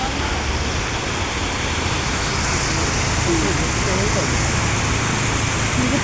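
The Lauke waterfall in Nuwakot flowing, a loud, constant broadband rush of falling water filling the whole stretch, close and unbroken.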